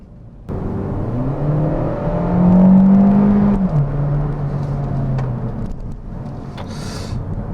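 A 2017 Hyundai Avante Sport with a 200-horsepower GDI engine revving while driving, a low droning engine note rising in pitch then settling, steady and close inside the car.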